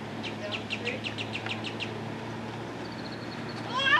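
A series of short, bright bird calls at a campsite, repeated rapidly about a dozen times in the first half, then fainter chirps, over steady low background hum and outdoor ambience.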